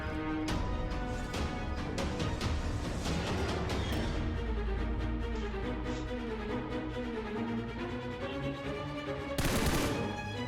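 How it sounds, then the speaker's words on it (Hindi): Gunfire in the video game PUBG: dense, continuous automatic shots crackle over an unbroken bed of game sound, with a louder burst near the end. "कुछ लोग पहाड़ी से भी फायर कर रहे थे"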